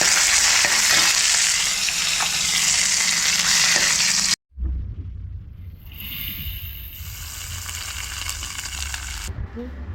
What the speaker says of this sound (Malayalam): കൂട്ടുകറി ഉണ്ടാക്കാമെന്ന് വിചാരിച്ചാൽ അതിന് വേണ്ടിയിട്ട് തേങ്ങയൊക്കെ വറുത്ത്